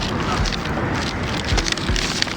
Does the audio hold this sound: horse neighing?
no